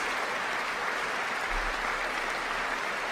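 Sustained applause in the chamber at the 2026 State of the Union address, a steady, even wash of clapping held at moderate distance throughout, with no clear voices on top.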